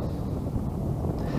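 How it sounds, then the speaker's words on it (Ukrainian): Strong wind buffets the microphone in a continuous low roar while out on a boat ultralight spinning for fish in November near Mar'yanivka and Tsehiv, with no voices. "Сильний вітер заважає закидати приманки ультралайтові, він їх здуває."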